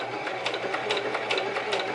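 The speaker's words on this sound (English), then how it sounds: "and I can sew the rest of the seam." A sewing machine stitches a centered zipper seam with a fast, even mechanical chatter of needle strokes, close and steady for a couple of seconds.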